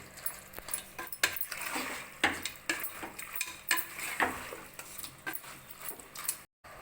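Rabbit meat sautés in oil in a pan, with repeated clinks and scrapes of a stirring spoon over a steady low sizzle, close and moderately loud, with no talking.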